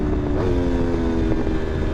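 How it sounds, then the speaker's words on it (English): An Aprilia RSV4 superbike with a BT Moto Stage 2 tune, its engine note stepping through downshifts with blips and a steady loud drone, close and continuous with no speech. "you gotta love those Aprilia downshifts."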